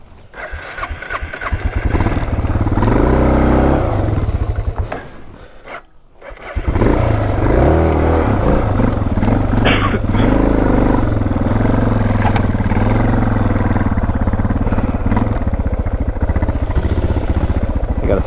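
A dual sport motorcycle engine runs loudly up close on a mountain trail, revving and clattering, briefly faltering toward a stall before roaring back to a sustained run.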